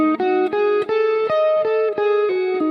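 An electric guitar plays a minor pentatonic lick with a flat 5, a string of clear sustained single notes picked one after another in a steady phrase, close and loud with no talking.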